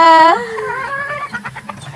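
A hen lets out a loud drawn-out cackle in a backyard flock of roosters and hens, followed by a few softer clucks and faint background noise.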